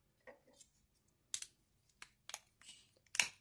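Plastic parts of a transforming toy robot train snapping and clipping together, a series of sharp, close clicks and small rattles spread irregularly across the quiet, with the last snap loudest.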